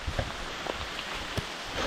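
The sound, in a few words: rain falling on a trail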